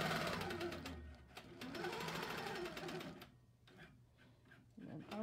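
A quilting sewing machine stitches in the ditch of a quilt with a rapid, close mechanical chatter. A voice is heard part of the time, and there are pauses and short bursts near the end.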